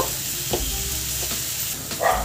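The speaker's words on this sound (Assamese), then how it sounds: "এইখিনি আদা নহৰু কেঁচা গোন্ধ যোৱালৈ এইখিনি ভাজিব লাগিব" Ginger and garlic fry in a pan for a lentil curry, a continuous close sizzle with a few soft scraping stirs of a spatula, no voices.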